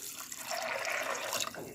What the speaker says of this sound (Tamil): இதுக்கு ஒரு கிளாஸ் தண்ணி ஊற்றிக்கலாம்.